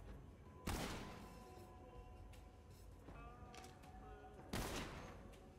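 Two loud gunshots ring out in a video game weapon damage test of body shots, spaced several seconds apart, each a sharp crack with a ringing tail, mechanical clicks and faint tones in between.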